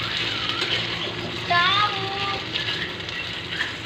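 Potatoes fry in a home kitchen pan with a steady, close hiss and sizzle, while voices talk over it.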